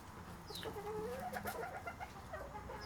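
Chicken clucking and bird calls rise over a steady background hum, with short rhythmic bursts and a few brief calls through the stretch, close and fairly continuous with no talk.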